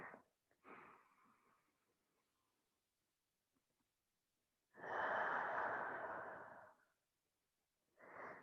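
A deep, full breath taken during a stretching session: one long, loud, close breath stands out between softer, fainter breaths, with no speech.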